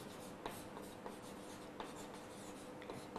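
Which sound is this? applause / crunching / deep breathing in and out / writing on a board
writing on a board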